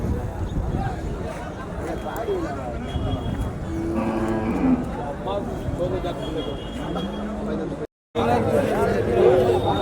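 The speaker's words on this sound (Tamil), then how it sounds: "நல்ல சைஸான மாடுங்க கிராஸு நாட்டு கிராஸு" Crossbred cattle at the Orappam cattle market in Krishnagiri district moo repeatedly, near and fairly loud, over a steady hubbub of crowd chatter and people talking.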